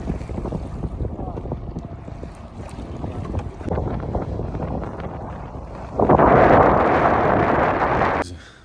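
Small fishing boat under way on a lake in Colorado, a steady rumble of hull and water with wind buffeting the microphone, growing louder and rougher for a couple of seconds near the end before cutting off.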